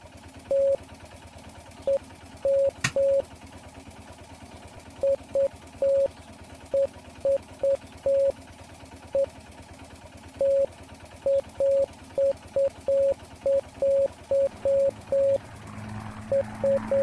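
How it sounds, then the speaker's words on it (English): Morse code beeps tapped out in the video game Martha Is Dead: a steady mid-pitched tone sounds in short dots and longer dashes, grouped with irregular pauses, clear and alone over a faint low background hum. "Now I gotta actually do the Morse code. Short press to send a dot. Press and hold briefly to send a dash."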